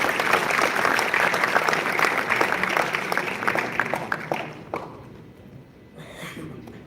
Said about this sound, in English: Can we have a huge round of applause for sir, please?